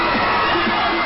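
A crowd cheering as Robert Pattinson appears, loud continuous shrieks and screams from many young fans, close and dense for the whole moment.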